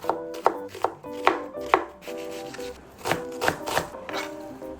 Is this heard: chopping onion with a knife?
yes